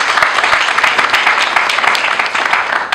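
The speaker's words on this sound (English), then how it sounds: "So please, a round of applause for them." Loud, close applause at an award announcement on the TCN Power Wheel programme, with distinct individual claps forming a brisk, continuous round that eases slightly near the end.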